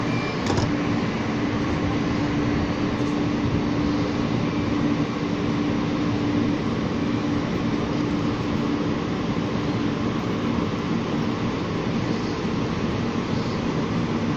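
A continuous low rumble and rushing noise of a Calgary CTrain light rail train departing the station, moving steadily, with a faint hum, constant and fairly close throughout.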